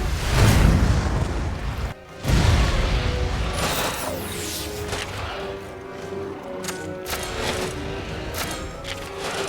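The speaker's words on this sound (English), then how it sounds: "Dragon's gunfire!" Dragon's gunfire attack in the video game Monster Hunter Stories 2, heavy booming blasts and crashing impacts up front, then a brief gap and a run of rumbling explosive hits with scattered sharp cracks over a busy game soundscape.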